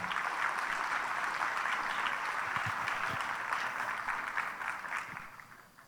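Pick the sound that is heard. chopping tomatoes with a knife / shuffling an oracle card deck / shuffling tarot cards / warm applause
warm applause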